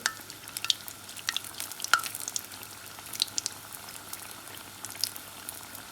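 Pitha frying in very hot oil: a soft, steady bubbling sizzle with small crackles and pops, fairly faint and with no talking.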